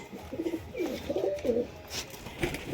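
Pigeons coo in a loft holding many birds, with repeated soft, throaty calls overlapping in bursts over a light hum of the room.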